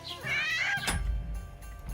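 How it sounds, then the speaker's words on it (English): A cat in the medieval role-playing game Kingdom Come: Deliverance II gives one drawn-out, wavering meow lasting under a second, followed by a soft thump and low background rumble. "Hi, kitty."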